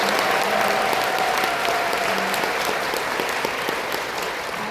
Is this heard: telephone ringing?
no